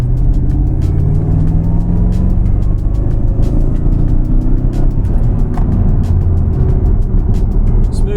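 A tuned Jaguar car pulls out of a roundabout, heard from inside the cabin as a loud, steady low engine drone and road rumble building smoothly under load.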